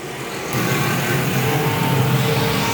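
Vintage and pure stock cars race on a dirt track at night, their engines surging into a loud, continuous roar as the pack passes close by.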